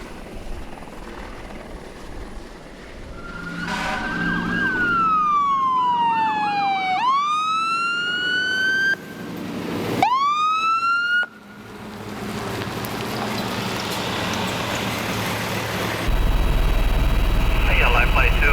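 A Life Flight medical helicopter lifts off from a landing zone, its steady rotor and turbine noise loud and close throughout, with rising and falling siren-like tones sweeping over it partway through.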